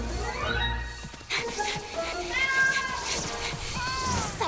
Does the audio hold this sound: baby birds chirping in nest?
no